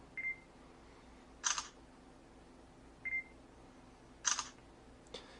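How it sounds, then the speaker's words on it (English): Smartphone camera app on an Android phone giving short electronic confirmation beeps on focus, two brief tones each followed by a shutter click, repeated twice, clear and close in a quiet room. "You get a confirmation beep and you can snap the shutter."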